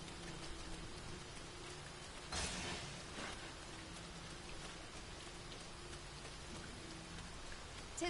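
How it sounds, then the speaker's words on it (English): Steady rain patters in a video game scene, a continuous soft hiss with a brief louder gust partway through, faint and without voices. "Tis raining still."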